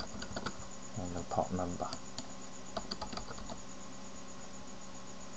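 Keys on a computer keyboard tap out an IP address and port in short bursts of quick clicks, with a voice talking over the typing.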